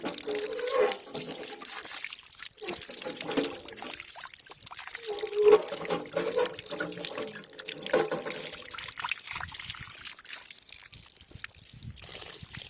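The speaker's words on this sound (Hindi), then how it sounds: "ये हमारा नलका है जो घर से बाहर लगा हुआ है, इसको हम नहाएंगे भी इसमें" Water runs steadily from an outdoor tap fixed outside a house, a continuous close trickle and splash that carries on for the whole stretch at moderate level.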